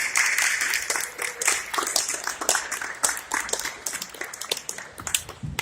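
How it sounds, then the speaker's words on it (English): Audience clapping for a panel after an evening blockchain Q&A session, a dense, steady patter of many hands at moderate distance lasting several seconds. "everybody give a round of applause for our panel tonight"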